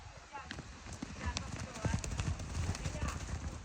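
Pony hooves clip-clop in an irregular patter of soft thuds close by, with a person talking over them throughout.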